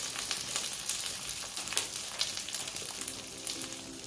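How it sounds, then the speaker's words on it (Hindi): Handvo lentil batter sizzles steadily in a kadhai over sesame, mustard seeds and curry leaves on a low flame, a continuous close frying hiss with faint crackles and no talking. "कढ़ाई में भी तिल, राई और करी पत्ते को स्प्रेड कर लिया है और उसके ऊपर हांडवो का बैटर डाल दिया है"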